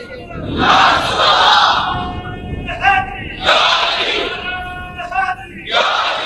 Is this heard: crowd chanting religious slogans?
yes